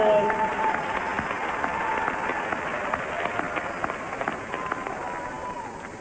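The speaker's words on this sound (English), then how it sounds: "A big round of applause." An audience applauds at the 1991 Ms. Olympia bodybuilding competition, a steady wash of clapping and crowd noise filling a large hall, fairly loud and sustained throughout with a voice talking over it.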